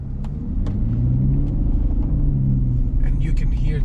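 Aston Martin Rapide with its front-mounted 12-cylinder engine pulling away, a steady deep rumble heard from inside the car with someone talking over it.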